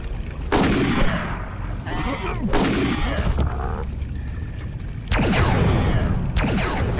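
Rifle gunfire from an enemy in the video game Carnivores Cityscape: several loud bursts of shots in separate clusters, with a steady noisy game background between them.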